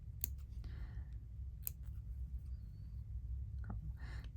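Small snips cutting during hand stitchery, a few short, sharp clicks spaced apart, with brief rustling between them, close and quiet over a low background hum.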